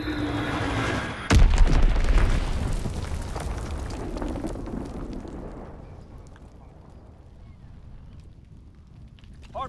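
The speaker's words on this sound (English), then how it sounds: "Enemy bomb incoming." Enemy bomb blast in a WW2 video game, a sudden loud boom with a low rumbling tail that fades slowly over several seconds amid faint battle noise.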